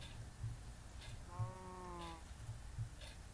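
Minecraft sheep giving a single wavering bleat, faint and mid-distance, over a soft ambient background with no talk.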